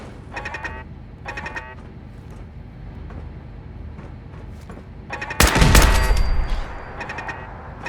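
Gunfire in Fallout 4 Survival: two or three short bursts of shots early on, then a single loud, close blast near the end with a ringing tail.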